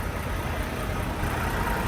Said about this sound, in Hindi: इसकी आवाज सुनो, इंजन की आवाज सुनो,